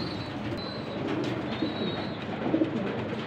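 Soft, low coos from Golden Kamagar pigeons in Lahore repeat over a steady background murmur, with a few faint higher chirps, close and continuous.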